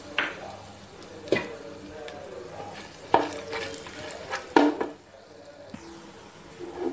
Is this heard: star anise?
yes